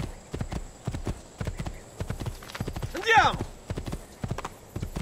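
Rhythmic hoofbeats of a galloping horse in the video game Assassin's Creed 2 pound steadily, with a brief whinny partway through; a voice talks over the clatter.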